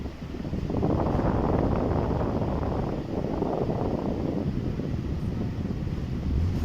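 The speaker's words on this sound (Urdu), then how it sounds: "اے سی وغیرہ گاڑی کا آن ہے۔" Inside a two-door Toyota sports car, a 1980 model, the air conditioning runs with a constant broadband whoosh of blowing air, steady and close throughout with no talk.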